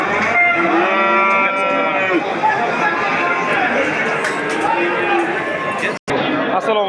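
Cattle and young heifers mooing loudly and repeatedly at the Yangiyo'l livestock market, several overlapping calls close by over a busy crowd murmur.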